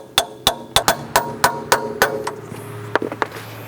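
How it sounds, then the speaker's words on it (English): Steady metal hammer blows, about a dozen evenly spaced ringing strikes, close by, then a few lighter quicker taps near the end, while hammering a lower control arm into place on a 2003-2007 Honda Accord. "Hammer this into place."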